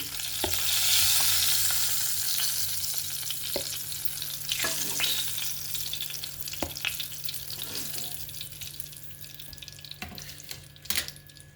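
Eggs fry in a pan on a stovetop for a curry, giving a steady sizzle and hiss with a few sharp clinks and scrapes scattered throughout; no one speaks.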